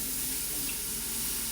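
About six cups of water poured into a pot for chicken sausage gumbo, a steady loud rushing splash filling the whole moment without pause.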